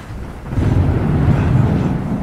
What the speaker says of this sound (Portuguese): E tá chovendo pra caramba, e tá relampeando